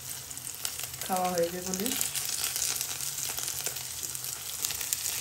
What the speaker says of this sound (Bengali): এই কারণে এখন রাত্রেও গরম গরম বড়া ভেজে দিই